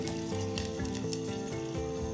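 A dhokla tempering in a pan boils and sizzles with a steady, dense hiss and soft bubbling, close and even throughout the short stretch with no voices.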